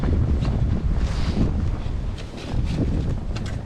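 Strong blizzard wind roars continuously outdoors, buffeting the microphone with heavy low rumbling gusts that swell and ease over a few seconds, with no talking.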